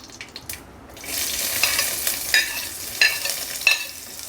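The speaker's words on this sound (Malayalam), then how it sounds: "തേങ്ങ മൂത്ത് വരുന്നവരെ ഇളക്കിക്കൊണ്ടേയിരിക്കുക." Coconut pieces fried in a pan for a Kerala-style duck roast, stirred steadily so a soft sizzle runs under repeated scraping strokes, each stroke a short bright rasp at roughly even intervals.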